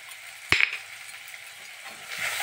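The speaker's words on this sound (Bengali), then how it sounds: "এটা আমি একটু কষতে থাকছি" Okra cooks in olive oil in a pan, a soft sizzle with a brief sharp clink of a utensil early on and gentle stirring noises.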